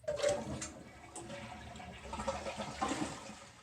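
A Kohler toilet with an AquaPiston flush valve flushes to empty its tank, giving a close, moderately quiet rush and gurgle of draining water that swells again toward the end, with no speech.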